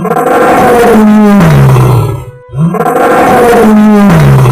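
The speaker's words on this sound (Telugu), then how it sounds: "సింహం గర్జించగానే బావిలో కూడా అదే గర్జన వినిపించింది" A lion roars twice, loud and close, each roar a deep drawn-out groan that falls in pitch, with a short silent gap between them and an echoing quality as if inside a well.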